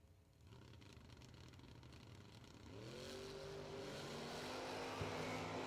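A Chevrolet Chevelle drag race car at a drag strip, its engine rumbling steadily and then building to a louder rising roar, heard from some distance with no voices.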